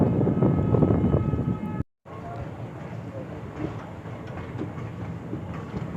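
Ahmedabad–Somnath Intercity Express pulling into Viramgam Junction, a steady rumble of wheels and carriage noise that cuts out briefly, then resumes slightly quieter, with faint voices underneath.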